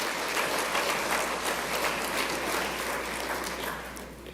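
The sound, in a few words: audience applause at an honours ceremony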